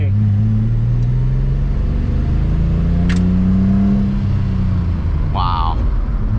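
A Nissan car engine drones steadily while driving, with a low, even hum that rises gently in pitch as it pulls through the gears, heard from inside the cabin.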